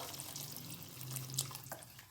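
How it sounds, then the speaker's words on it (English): Hot water, a single glass, pours into a simmering Bengali rohu fish curry with curd and raisins, making a soft steady splash and trickle for about two seconds, faint and close, with no talking. "Add 1 glass of hot water."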